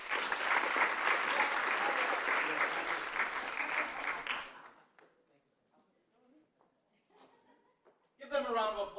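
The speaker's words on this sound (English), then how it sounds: "Give them a round of applause again." Audience at an awards ceremony applauding, a dense, loud burst of clapping for about four seconds that fades into scattered claps and quiet, then a voice speaks at the end.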